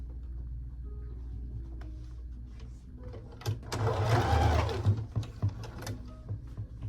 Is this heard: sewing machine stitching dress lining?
yes